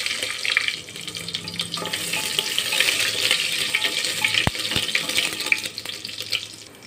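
Panch phoron spices and a bay leaf sizzle in hot mustard oil in a pressure cooker, a close, steady crackling hiss with a couple of sharp knocks partway through.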